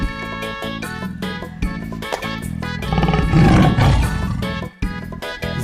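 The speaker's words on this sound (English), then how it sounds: "Tiger." A tiger roars several times in a row, loud and close, with deep rumbling growls that swell in the middle and break off briefly near the end.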